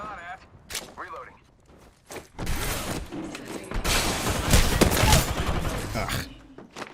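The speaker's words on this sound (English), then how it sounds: "Getting shot at." Video game gunfire builds from scattered single shots into dense, loud bursts of rapid fire at close range, and a voice is heard faintly amid the shooting.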